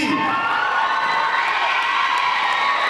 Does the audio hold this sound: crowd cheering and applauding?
yes